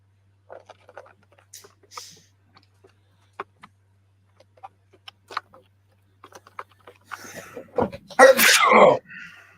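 A loud, close sneeze bursts out near the end after scattered quiet ticks and taps.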